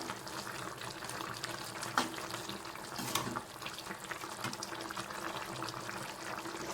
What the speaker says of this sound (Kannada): ನೋಡಿ ಬೆಂಡೆಕಾಯಿ ಹುಳಿ ಆಗಿದೆ, ಕುದೀತಿದೆ